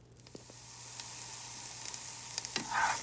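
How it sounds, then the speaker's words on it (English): Onions sautéing in butter and oil in a pan, a soft steady sizzle with occasional louder pops and a brief stirring scrape near the end, quiet and heard alone. "There are some onions and the butter and the oil, and I'm going to saute these until they're cooked a little bit, kind of soft, translucent."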